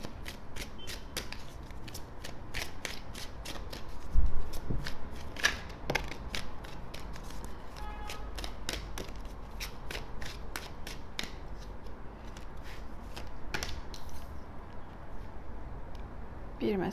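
A tarot deck is shuffled repeatedly at close range, giving rapid crisp card riffles and flicks in irregular bursts, with a low soft background hum and someone speaking quietly at times.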